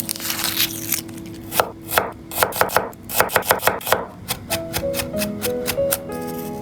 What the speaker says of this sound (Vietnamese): Phần hành khô thì mình sẽ sử dụng một nửa để băm nhỏ